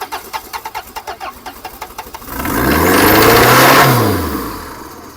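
A Citroën C15 engine cranks with a rapid, pulsing starter rhythm for about two seconds, then catches and revs up into a loud, rising roar close by. It holds the revs and then falls back as it settles.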